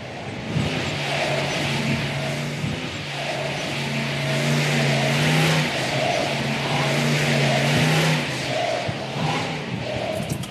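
A 3,800-pound muscle car with no power steering pushes through a slalom course, its engine droning and surging steadily with a loud, continuous roar and harmonic whine over outdoor wind.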